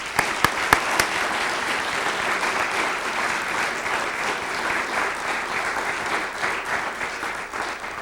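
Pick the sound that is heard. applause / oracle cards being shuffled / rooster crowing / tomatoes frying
applause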